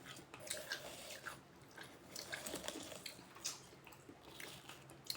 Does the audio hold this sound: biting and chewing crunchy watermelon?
yes